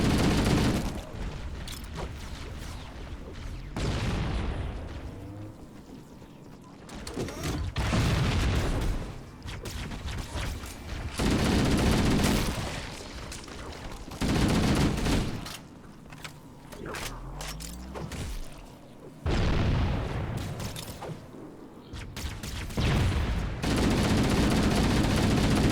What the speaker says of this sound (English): Now I have a rocket launcher.